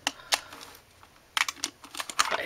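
Clacky, distinct keystrokes on an IBM Model M keyboard in short irregular bursts, close and crisp, with a brief pause partway through.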